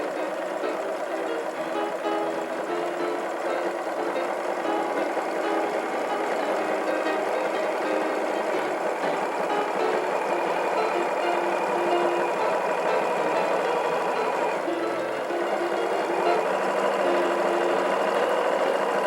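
A sewing machine stitches a zigzag seam on coiled fabric, a steady, continuous mechanical whir and hum running unbroken throughout, close and fairly loud.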